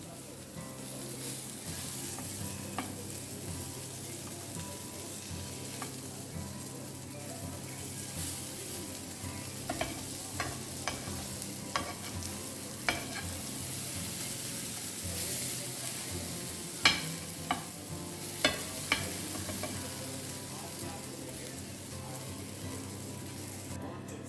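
Kalwache oysters frying in oil in a pan at a Panjim market restaurant, a steady dense sizzle running throughout, broken by scattered sharp clicks and scrapes as the pieces are turned one by one, with faint voices in the background.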